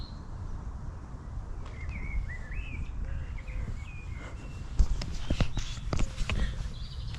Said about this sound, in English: some birds making some very, very refreshing noise here